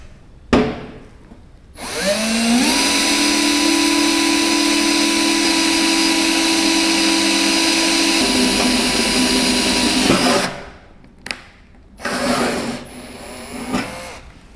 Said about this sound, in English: we have a metal drill bit, and we'll try to drill into the metal, sheet metal.